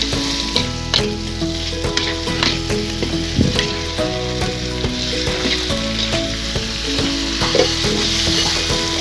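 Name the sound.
tempeh being stirred while frying in a pan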